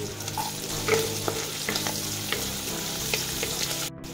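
Garlic and longganisa sausage fry in a pan for Bicol-style pancit, a continuous close sizzle with a few scattered crackles and light utensil taps, steady throughout and no talk.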